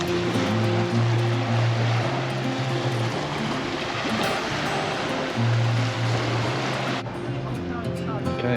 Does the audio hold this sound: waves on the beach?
yes